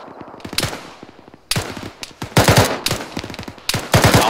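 Rapid automatic gunfire in the military shooter Arma, loud close bursts of rattling shots separated by short pauses, with dense repeated volleys and no talking.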